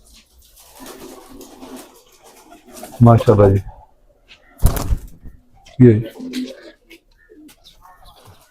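A pigeon coos in a few short, throaty bursts, close by and separated by pauses, while someone speaks quietly in between.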